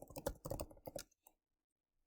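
Quick bursts of clicky typing on a computer keyboard while entering a command to compile C code, a close, rapid patter that stops for a pause before one final keystroke.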